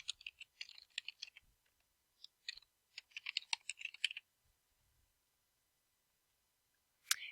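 Someone types an email address on a computer keyboard: quiet, close key clicks in quick irregular bursts, then a pause and a last short cluster of keystrokes.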